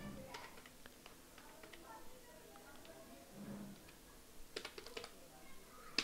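Keys clatter on a computer keyboard while PHP code is typed, soft scattered taps with a quicker burst near the end, faint and close under a quiet room hiss. A voice talks over it.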